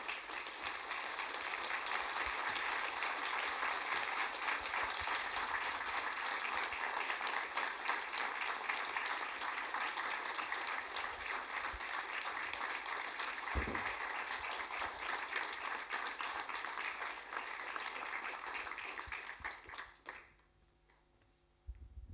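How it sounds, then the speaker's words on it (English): A TEDx audience applauds after a talk, a dense, sustained wash of clapping that stays loud for about twenty seconds before cutting off abruptly into near silence. "Another round of applause for Josh."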